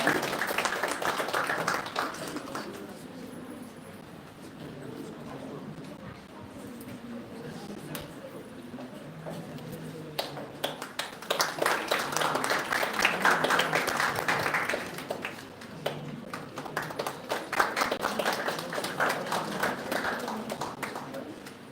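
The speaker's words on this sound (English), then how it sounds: "please give a huge round of applause for them" Seminar audience at a valedictory session for a teacher education department claps in scattered bursts, moderately distant and uneven, swelling midway, with a speaking voice heard faintly at times.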